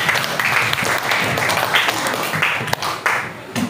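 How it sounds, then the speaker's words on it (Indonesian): Seventh-grade students in a junior high school classroom clap for their classmates, a few seconds of lively scattered applause with voices underneath. "kasih tepuk tangan dulu buat teman-temanmu"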